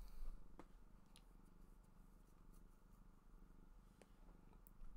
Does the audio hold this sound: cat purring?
yes